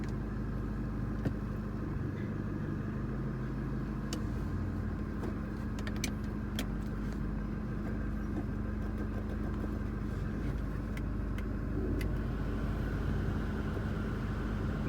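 A Chevrolet pickup truck engine runs at a steady idle, a constant close rumble with faint clicks over it and no clear start heard.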